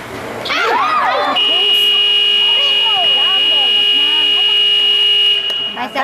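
A long, steady electronic buzzer blares for several seconds over a noisy crowd at a basketball game, with shouting voices and sneaker squeaks in a gym.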